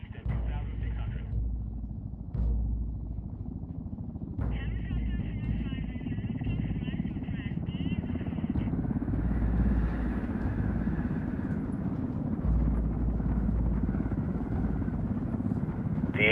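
Helicopter flying in a game scene, a steady low rotor and engine rumble running throughout, moderately loud, with radio-style talk and higher mechanical whine layered over it.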